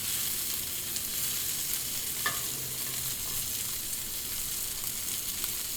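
Shrimp frying in oil on a Blackstone flat-top griddle, a dense, steady sizzle that holds evenly throughout, with one brief scrape or tap midway.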